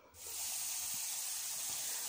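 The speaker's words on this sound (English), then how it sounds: "green pepper and celery frying away nicely" Green pepper, celery and onion fry in rendered chicken fat in a pan, giving a steady, close hiss of sizzling that holds evenly throughout, with no talking.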